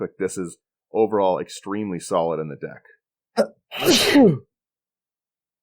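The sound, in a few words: sneeze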